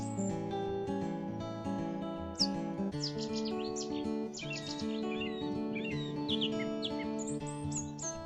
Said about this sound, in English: I think it's a blackbird.